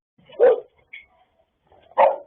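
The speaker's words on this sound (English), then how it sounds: "the dog that acts as both a security alarm and a guard" A vigilant house guard dog barks twice, loud and close, with a quieter yelp between the two barks.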